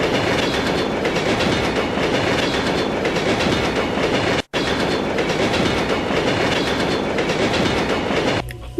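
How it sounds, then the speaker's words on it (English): A stock train sound effect rumbles steadily with rhythmic clickety-clack of wheels on rails, loud and continuous, broken by one brief dropout midway and no voices. "it's always just the exact same stock sound effect of a train moving"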